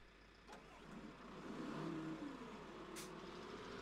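A vehicle engine in Farming Simulator 17 revving hard on its very first start, rising to a steady, moderately loud drone with a brief high hiss near the end; no talking.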